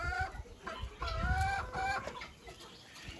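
Jumbo White chickens, hens and a rooster, cluck and call close by in a busy run of repeated, overlapping clucks.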